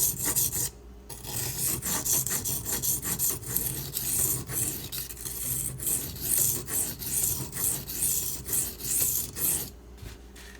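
A lockback knife blade is drawn back and forth across a sharpening stone, producing a loud, rhythmic rasping scrape repeated in steady strokes with a brief pause near the start and end.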